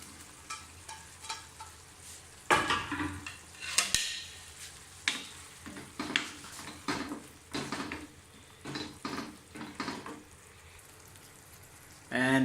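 Sausage is dropped into a pan of hot oil and stirred, giving a background sizzle broken by loud clanks of a spoon against the pan and bursts of scraping, with a few faint voice sounds.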